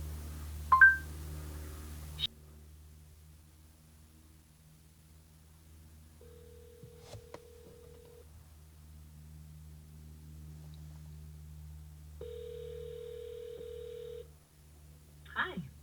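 A hands-free phone call placed through Google Assistant rings through an aftermarket car head unit in a 4Runner parked in a garage, giving two long, even ring tones with pauses between them, faint against a low hum.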